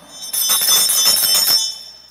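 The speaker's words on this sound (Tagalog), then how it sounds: "Muna'y gamit sa bell." A handbell rings rapidly and loudly during an exorcism ritual in Siquijor, a bright, shimmering burst of clangs lasting over a second before fading, with no talk.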